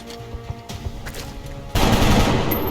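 Gunfire from the video game XCOM: Long War: a few sharp shots early, then a loud sustained burst of rapid, dense firing.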